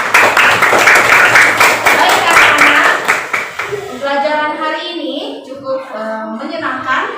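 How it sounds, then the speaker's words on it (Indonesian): Children in a classroom clap their hands together in a loud burst for about four seconds, then the clapping stops and young voices chatter. "Ya, tepuk tangan dulu untuk kita semua."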